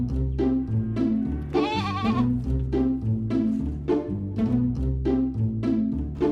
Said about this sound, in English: The goat likes to play on the farm.